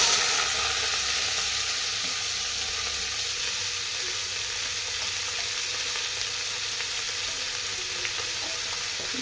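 Onions and green chilies sizzle and fry steadily in hot oil in a pan, a continuous close hiss with faint stirring, no voices.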